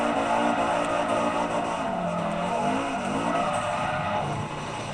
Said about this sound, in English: I'm actually all-wheel drive drifting.